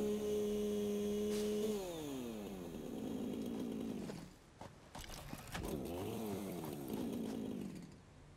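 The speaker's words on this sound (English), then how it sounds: "Let's chop it down and fix this issue." Video-game chainsaw felling a tree in Satisfactory: a steady motor drone that drops in pitch, then rough cutting bursts with a brief dip and a final stretch of grinding, close and loud with no talk.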